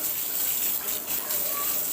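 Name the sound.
water gushing strongly from opened tap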